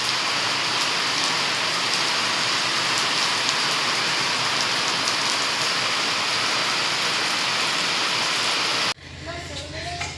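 Steady unseasonal winter rain pours down in a dense, continuous patter, then near the end a voice begins talking as the rain cuts away.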